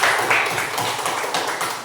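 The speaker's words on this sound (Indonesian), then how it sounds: "Kita berikan dulu tepuk tangan." A classroom of students gives a short, steady round of applause for a discussion group, the clapping close and continuous from start to finish.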